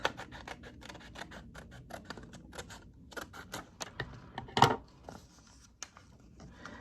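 Scissors snip through excess paper around a cardboard toilet paper roll in a quick series of crisp cuts, with one louder crunch partway through, all close up and without talk.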